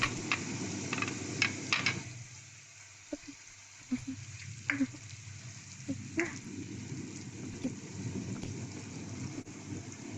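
Mutton curry ingredients fry in hot oil with curry leaves, giving a soft steady sizzle with scattered pops and crackles and a few brief clinks from the pan across the stretch.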